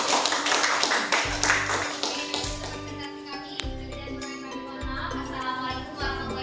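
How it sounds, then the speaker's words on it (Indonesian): A classroom group claps a short round of applause, a cluster of close hand taps overlapping a soft patterned tapping in the background, with no talking over it. "Tepuk tangan dulu ya."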